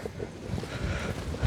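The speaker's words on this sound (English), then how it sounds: "little bit chilly and windy today." Wind blows outdoors on a chilly, windy day at a rural property, a faint, gusty low rumble buffeting the microphone, with no voices.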